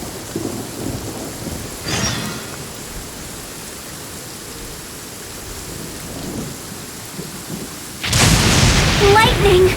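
A thunderstorm in the video game Genshin Impact, with steady rain hissing throughout, a soft rumble near two seconds, then a loud close thunder crack near the end.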